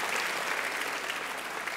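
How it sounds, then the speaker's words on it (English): A talent-show audience applauds a volunteer joining a Rubik's cube magic act onstage, brisk, steady clapping from a large crowd with no gaps. "Give him a round of applause."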